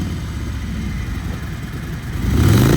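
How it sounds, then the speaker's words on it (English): A used 2019 Harley-Davidson FLHT Electra Glide with a Milwaukee 8 four-valve engine idles with a low, lumpy rumble, then revs up louder near the end, heard close. "It's got the Milwaukee 8 4-valve per cylinder engine."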